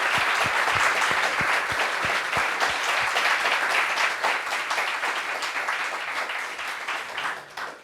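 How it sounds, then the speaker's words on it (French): A television studio audience applauds a film director guest. Dense clapping is driven by strong rhythmic hand claps at first, then thins and slowly fades toward the end. "Applaudissements pour lui."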